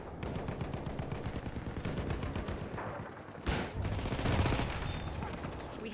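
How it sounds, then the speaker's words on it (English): Rapid bursts of machine gun fire crackle in Battlefield 1 combat, with dense repeated shots, a louder blast near the middle and chaotic battle noise around it. "Look out! Machine gun!"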